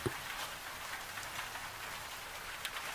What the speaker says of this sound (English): the rain running down it in long crooked lines